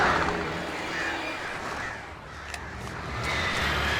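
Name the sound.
crows cawing, from the video game Alan Wake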